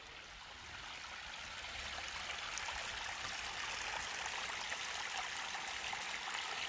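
A small creek flows steadily through a natural playscape, a soft continuous rush and trickle of water that swells slightly at first and then holds even, with no voices.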